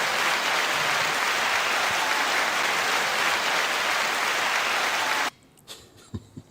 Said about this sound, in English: 9-second applause for that.